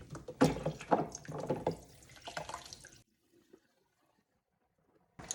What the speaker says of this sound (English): Now I just turn my water on and run it completely through the cool water through my wig.